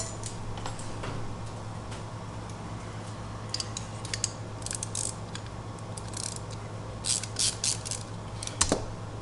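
A socket wrench ratchets on a Honda 305 Dream motorcycle in a workshop, producing faint, quick clicking bursts over a steady background hum, growing a bit louder toward the end.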